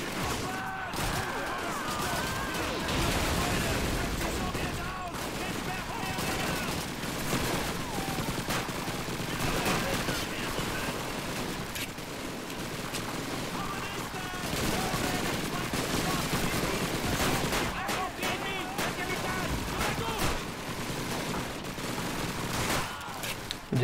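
Dense gunfire from the World War II shooter Call of Duty 2 on PC rattles on nonstop, rifle and machine-gun bursts layered with distant explosions in a loud, chaotic battle din throughout.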